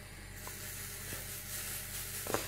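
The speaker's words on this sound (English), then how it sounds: "Listen to that sizzle." Pancake batter sizzles in a non-stick pan, a steady close hiss of frying with a few faint ticks and pops over its length.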